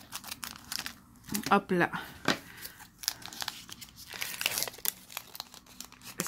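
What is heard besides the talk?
tearing open Pokémon XY Evolution booster pack wrapper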